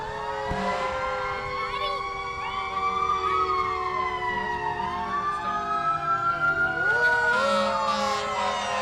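Monticello Fire Department fire truck siren wailing at a nighttime parade, its rising and falling tones sweeping up and down loudly nearby, with crowd murmur and voices underneath.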